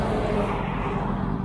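A car engine revs steadily as the driver gives it more gas, a dense, continuous loud drone with no breaks and no talking, heard from close by.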